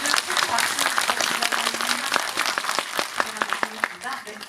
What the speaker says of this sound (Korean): 네, 모두 큰 박수